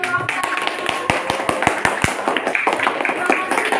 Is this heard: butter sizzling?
no